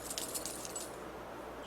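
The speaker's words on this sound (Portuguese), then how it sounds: "Chaves, não é isso?" A bunch of metal keys jangles and clinks in a short shaking burst, bright and close, then settles into a faint rustle with no talking.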